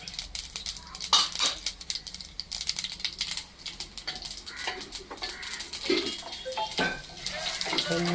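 A utensil stirs urad dal and chana dal frying in a pan, scraping and clinking in quick, uneven strokes at close range. Faint birdsong sounds in the background.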